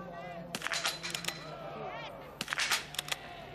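Rifle shots at a biathlon range during a World Cup single mixed relay in Östersund, several sharp cracks in two quick clusters ringing out over a continuous crowd and commentary murmur, with people talking in the background.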